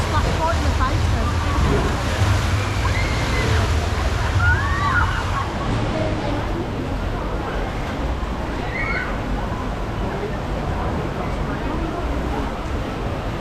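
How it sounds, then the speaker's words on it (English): Water sloshing and splashing around a boat on a bumpy water ride at Liseberg amusement park, a continuous loud rushing wash close by, with faint shouts and riders' voices mixed in. "Lots of bumps, lots of splashes."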